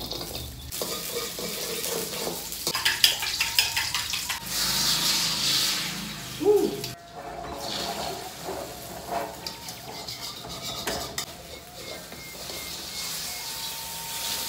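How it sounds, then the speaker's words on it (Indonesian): Shallots stir-fry in a pan for a Sundanese home-cooked meal, a close, steady sizzle with scraping stirs and occasional clatters, rising and falling in intensity throughout. "Ini di sini ada bawang merah, kita tumis dulu bawang merahnya."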